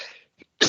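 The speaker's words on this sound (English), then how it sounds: "That's a weed cough, not Corona." A short, sharp cough from a person who has just smoked weed, one burst near the end after a faint throat sound, close and dry with no talk.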